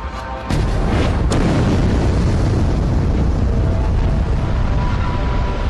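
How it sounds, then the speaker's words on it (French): Apocalyptic asteroid impact explosion: a sharp onset followed by a massive, sustained roaring rumble that stays loud and dense for several seconds with no voices. "L'explosion est apocalyptique."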